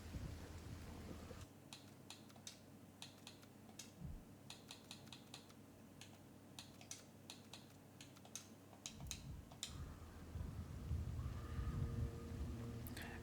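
Steady rain hiss with rumbling thunder from the video game Hellblade 2, joined by sharp keyboard-like clicks through the middle and a louder swell of rain and rumble toward the end.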